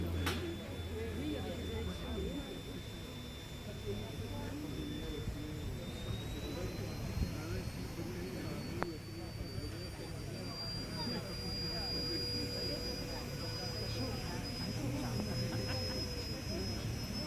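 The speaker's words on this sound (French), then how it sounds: "Démarrage du réacteur tout d'abord avec une alimentation au gaz." A small turbojet starts up on a gas feed at an outdoor Aerotrain exhibition stand during a 2008 charity event, its whine climbing in pitch and then holding steady over a broad roar, with crowd chatter around it.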